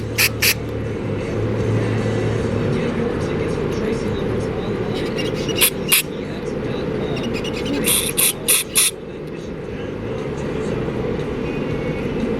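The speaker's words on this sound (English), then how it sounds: "I'm just going to spray through here" Short bursts of hissing carburetor cleaner spray through a push mower carburetor, a few quick spurts followed by a longer cluster, over a steady low mechanical rumble.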